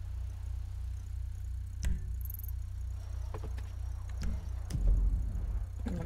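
A car engine idles in a GTA roleplay video game, a steady low rumble that runs through the whole stretch, with a few faint clicks and a brief rougher swell near the end.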